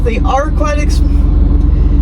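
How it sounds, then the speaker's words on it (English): BMW E46 M3 on the move, with a steady low exhaust drone and road rumble filling the cabin, plus faint creaks. A voice talks over it throughout. "You hear exhaust, bushings, you hear everything."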